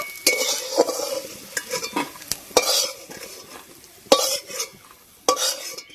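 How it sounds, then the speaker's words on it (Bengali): Frying sizzle of prawns in a pan with repeated scraping and stirring of a spatula, close and fairly loud, in irregular bursts with no talking. "চিংড়ি মাছগুলো ভালো করে ভেজে নিয়েছি, এবার তুলে নেব"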